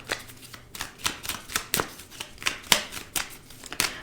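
Moon Magic affirmation cards being shuffled by hand during a tarot reading, making a quick series of crisp, close riffling flicks in an uneven rhythm, with no voices.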